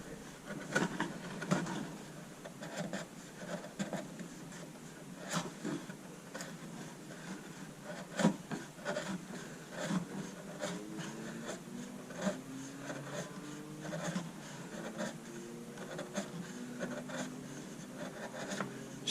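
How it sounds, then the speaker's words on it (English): A chisel slicing and carving jacaranda wood for a carved dune sculpture, soft scraping and shaving strokes repeating in an irregular rhythm, close but quiet, with faint knocks and no speech. "See the slicing action of the chisel?"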